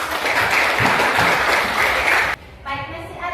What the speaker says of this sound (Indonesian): Ya, tepuk tangan untuk teman-teman.